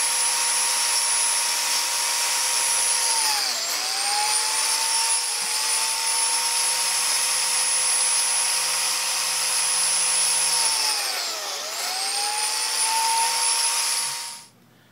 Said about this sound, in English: get the biscuit joiner out and cut a couple of biscuit slots